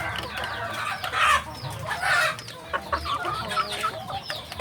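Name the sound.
free-range village chickens clucking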